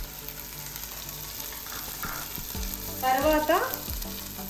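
Turmeric and spices frying in the pan for avakaya biryani, a soft steady sizzle with a few thuds and a brief voice speaking near the end.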